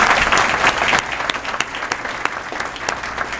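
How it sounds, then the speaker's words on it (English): An audience at a mosque inauguration event gives a round of applause for three guest speakers, loud clapping at first that thins into scattered individual claps. "let's give a big round of applause to all three of our guests"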